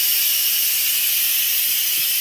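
Steam hisses steadily from an Instant Pot's pressure release valve during quick release after cooking risotto, a loud continuous broadband rush that holds even for the full stretch with no voices.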